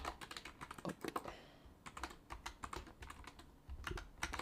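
Close, quick clicking of a computer keyboard while someone writes C++ code, with irregular bursts of keystrokes and one short pause in the middle.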